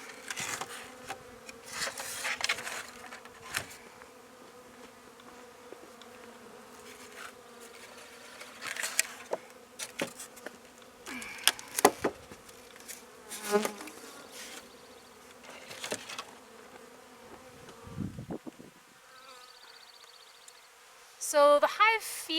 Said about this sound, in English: the bees have been flying around